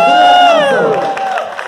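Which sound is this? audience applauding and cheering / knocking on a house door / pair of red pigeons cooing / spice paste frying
audience applauding and cheering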